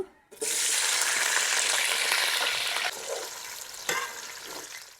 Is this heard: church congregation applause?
no